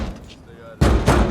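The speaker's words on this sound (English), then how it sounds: "Special knock." Two loud, heavy knocks on a door land close together in a Better Call Saul season 5 episode 1 scene, abrupt after a quiet stretch, with faint background voices.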